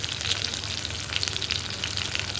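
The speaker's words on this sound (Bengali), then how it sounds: "আমি এখানে মাছগুলো ভাজতে দিয়ে দিয়েছি।" Pieces of fish fry in hot oil in a pan for a Bengali fish curry, a loud, continuous crackling sizzle close by with no voices.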